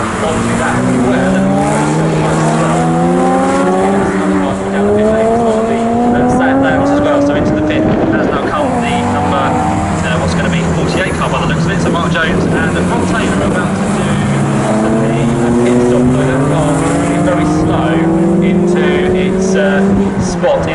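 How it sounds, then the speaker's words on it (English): Several race cars, including three Porsches, lap the Snetterton circuit during an endurance race, engines droning loudly and continuously with rising and falling pitch as they pass, under a commentator's voice. "We've got the three Porsches fairly close together on track, Ian, haven't we?"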